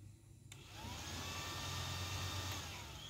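An older Yamaha Vixion motorcycle's electric radiator cooling fan spins up after a click, settling into a steady whirring hum with a faint rising whine, close and continuous, no talking.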